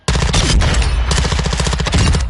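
Rapid automatic gunfire in Call of Duty: Modern Warfare 2 on PS4, a loud, dense burst of shots starting sharply and continuing steadily for about two seconds.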